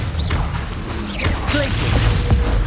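Confringo fire spell cast in the video game Hogwarts Legacy, a dense whooshing, crackling magical burst with swishes and brief tonal chirps over a steady game background.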